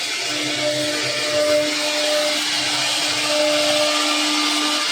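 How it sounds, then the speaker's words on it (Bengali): CNC router carving a design into a solid wooden door panel in a door-making workshop, giving a steady, continuous high whine with faint mechanical tones, loud and close, with no talk. "সিএনসি মেশিনে ডিজাইনের কাজ চলছে।"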